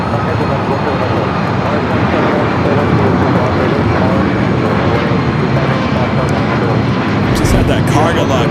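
A cargo plane touches down on the south side runway at LAX, its loud, continuous jet engine roar filling the whole stretch close by, with a voice talking over it.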